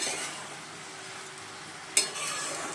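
Cabbage stirred with spices in a pan: a soft, even sizzle with a single sharp scrape of the utensil near the end.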